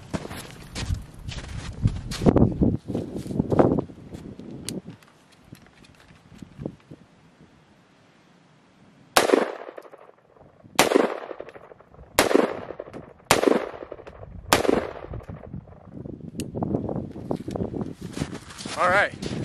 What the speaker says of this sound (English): Let's fire off some more rounds.